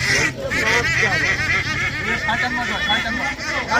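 Ducks for sale at a market quack and honk in a busy jumble, close and loud, with a low murmur of people in the background.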